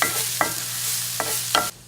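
Onions, peppers and vegetables sizzling in a pan for sweet potato hash, with a steady fry and three or four quick spatula scrapes and taps, close up, ending abruptly.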